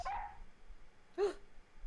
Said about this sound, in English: Oh my, what an energetic little puppy.